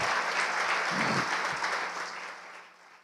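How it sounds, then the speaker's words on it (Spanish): A church congregation claps steadily, loud at first and then tapering off toward the end. "Le damos un aplauso del Señor."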